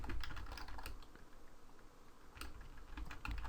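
Code being typed into a computer keyboard for a Unity survival game, a brisk patter of quiet, close key taps that clusters at the start and again near the end over faint background hum, with no speech.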